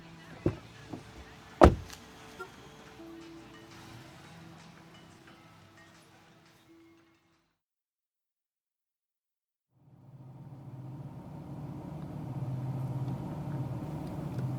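Car door opened and shut, then the car drives off: a couple of sharp knocks and a thud, a low idle hum fading into silence, and a rising engine rumble as it pulls away.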